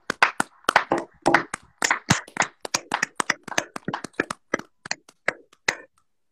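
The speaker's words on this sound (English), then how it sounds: "Now y'all give yourself a round of applause anytime." Scattered hand clapping from a small live-stream group, sharp uneven claps in bursts, close and fairly sparse, fading out after about five seconds.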